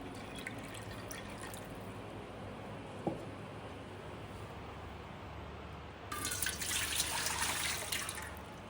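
Water poured into a cooking pot, five measures for soaking flattened rice: a quiet start with one small splash, then a steady rushing pour from the sixth second to the end.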